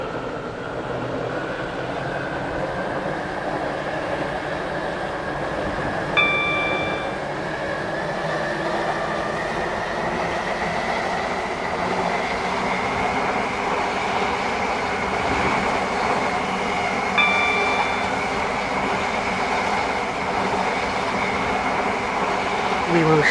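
A Class 720 electric train in the Roblox game SCR runs steadily, its motor whine holding a sustained tone over a continuous rumble, with two brief chime-like beeps sounding partway through.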